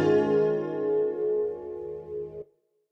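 Speech convolved with a realistic room impulse response and then passed through a mismatched inverse filter: one short spoken phrase with a slightly metallic, ringing tone, then a quick cutoff into silence.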